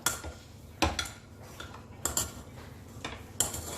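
A spoon scraping and scooping coarsely mashed horse gram in a metal pot, several sharp clinks at irregular intervals over a quiet background, no talk.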